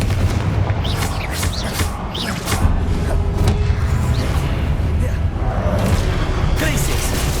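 Confringo spell blasts in the video game Hogwarts Legacy, a string of booming fiery explosions with whooshes over continuous battle noise, loud and close, with a voice calling out the spell.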